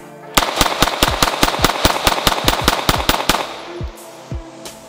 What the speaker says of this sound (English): Let's get my first couple of shots in with this guy